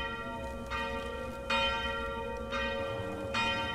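A bell in the horror video game Them & Us rings out in repeated tolling strikes, each clang followed by a long ringing hum, about four strikes spaced roughly a second apart with no voices.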